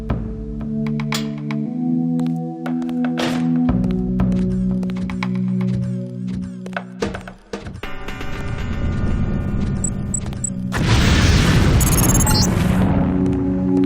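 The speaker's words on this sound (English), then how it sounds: "the lamp will fall to the ground and detonate" A LAM mine in the Deus Ex video game detonates with a loud, rumbling, broadband boom. A layered synth music bed plays underneath, and the boom is followed by a sustained roar.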